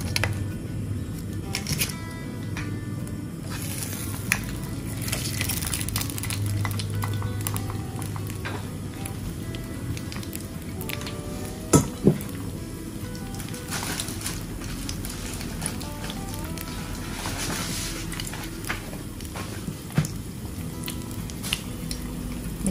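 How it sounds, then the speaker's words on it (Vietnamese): Crab pieces dropped into hot oil for a quick fry over high heat while making Vietnamese tamarind-glazed crab, giving a continuous close sizzle with occasional clinks and pops. "Dầu đây nóng rồi, mình sẽ bỏ ghẹ vào trong đây mình chiên sơ."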